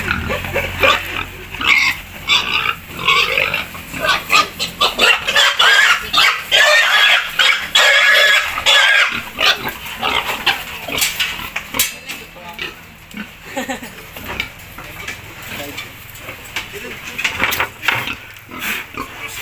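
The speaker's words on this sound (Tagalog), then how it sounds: "Malalaki talaga mga baboy. Kaya medyo mahirap hulihin." Large fattener pigs on a farm squeal and grunt loudly and continuously while being caught, with shrill cries, scuffling and clatter close by throughout.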